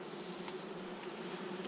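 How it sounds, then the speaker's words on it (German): Honey bees on a hive comb give a steady, close buzzing hum that carries on unbroken through the short moment. "Hauptsache, da haben wir schon ein paar Bienen drauf."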